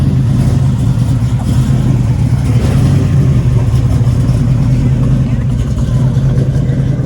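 A 1959 Chevrolet Impala hot rod rumbles in at a memorial cruise in Rensselaer County, New York, a loud, steady low engine drone held close throughout.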